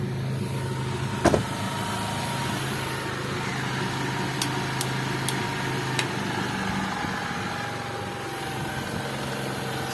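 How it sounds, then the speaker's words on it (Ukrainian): Passenger car engine running steadily at idle, with a continuous low hum and faint clicks and a brief knock partway through, no speech. "Вот так должна машинка работать."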